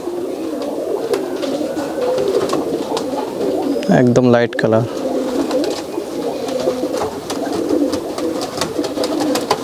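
Giribaz pigeons, light biscuit and light green female birds, coo softly near and close over a steady background murmur, with a brief harmonic burst of calls around the middle while someone talks throughout.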